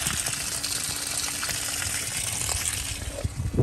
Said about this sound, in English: We're just running coolant straight through the top hose, backwards through the motor.